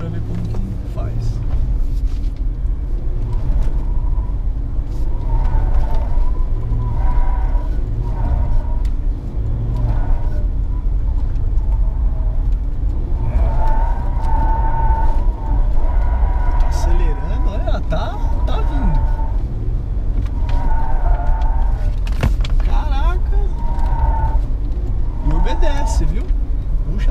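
Ford Ranger Limited V6 pickup rounding a roundabout, a steady low engine rumble with road noise heard from inside the cab, while people talk over it throughout.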